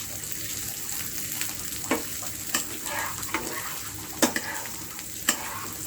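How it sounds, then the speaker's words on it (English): Onion sizzles as it fries in a pan for instant fried rice made from leftover food, a constant close frying hiss broken by several sharp spatula scrapes and stirring clinks. "Now I will put some onion into it."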